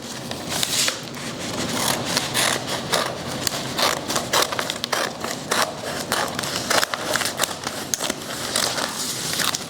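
A decorative furniture transfer sheet is cut with a blade or scissors in a continuous series of close crackling snips and crinkles, with the sheet rustling throughout and no talking.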